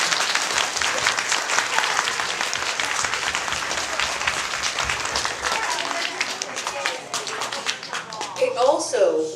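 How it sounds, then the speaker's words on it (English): Applause from a school variety show audience for three fifth grade teachers, many hands clapping in a thick, lively patter that thins toward the end as a few voices emerge. "Let's give them a round of applause."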